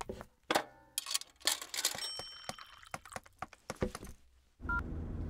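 A string of short electronic tones and clicks as a phone number is keyed in on a coin-operated public telephone, fairly close, ending in a brief ringing buzz.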